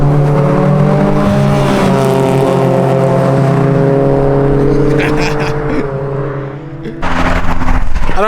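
A BMW E28 sedan drives hard on a canyon road near Los Angeles, its engine droning loud and close with steady harmonic tones that shift in pitch, ending with a brief surge of roaring wind and revs.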